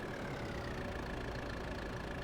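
Steady, dense rumble of a tractor engine idling in Farming Simulator 22, continuous and close with a low throbbing drone and a faint whine above it, no talking.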